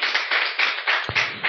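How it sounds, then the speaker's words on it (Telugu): A church congregation claps in steady rhythm during a service, a dense wash of many hands beating in regular pulses about every quarter second, with a brief thump partway through. "చప్పట్లు కొట్టి దేవుని మయపరచండి"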